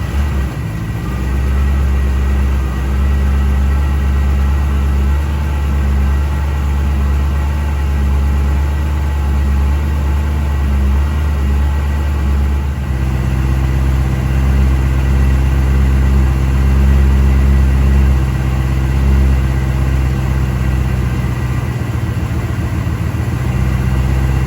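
A 1979 Porsche 928 with under 8,000 miles idles just after start-up, its V8 holding a steady low rumble close by that shifts slightly lower partway through as the idle settles, with no voices.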